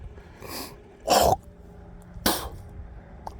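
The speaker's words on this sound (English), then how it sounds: "I've kind of been coughing up some nastiness from that" Three separate harsh coughs, the middle one loudest, with short quiet gaps between them and no talking.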